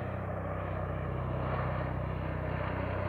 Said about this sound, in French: accompagné de 2 hélicoptères